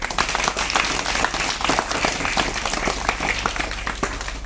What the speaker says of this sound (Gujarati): તો તેઓનું આપણે તાળીઓના ગડગડાટથી સ્વાગત કરીએ